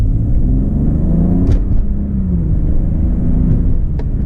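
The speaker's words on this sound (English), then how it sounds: "We are going to be doing some rapid accelerations down to a very slow pace." Rumbling engine of a BMW F30 335 as it accelerates hard, a loud, close drone that holds steady from start to finish.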